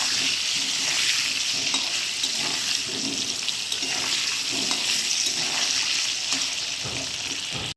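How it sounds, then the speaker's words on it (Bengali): Potatoes with turmeric frying in a pan, a dense continuous sizzle close by with a faint rhythmic scraping of stirring, no voices. "আলু ভাজা হয়ে গেছে এবার আমি পেঁয়াজ কুচি দেবো"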